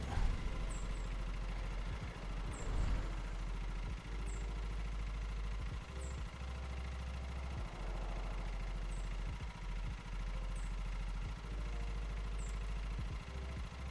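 The ride-on lawn mower engine in Lawn Mowing Simulator idles with a low, steady, throbbing drone that holds evenly for the whole stretch. Faint periodic chirps sit above it and there is no talking.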